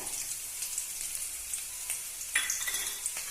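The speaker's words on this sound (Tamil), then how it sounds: "இப்போ இஞ்சி பூண்டு பச்சை வாசனை போகிற அளவுக்கு நல்லா வதக்கிக்கலாம்." Sliced onion and ginger garlic paste sauté in a hot pan with a continuous bright sizzle, broken by occasional stirring scrapes. A slightly louder burst comes near the end.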